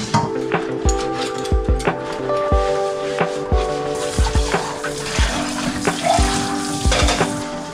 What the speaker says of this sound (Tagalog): Maghugas na ako ng pinagamitan.